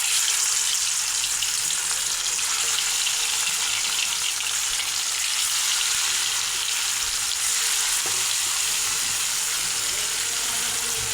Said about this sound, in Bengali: এখন ম্যারিনেট করা মাছটা ভেজে নেব